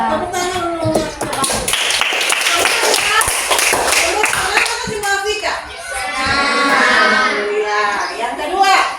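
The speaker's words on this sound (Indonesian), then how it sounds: "Tepuk tangan dulu." A class of schoolchildren clapping hands at a teacher's prompt during a lesson; rhythmic clapping mixed with children's voices and a teacher speaking, with a burst of chanting near the end.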